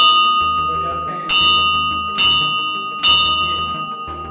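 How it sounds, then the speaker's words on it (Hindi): A temple bell set into a hillside shrine near the Pakistan-India border is struck three times at roughly even intervals, each loud, ringing strike decaying slowly into a sustained metallic hum, with no talking. "ये मंदिर की घंटी है"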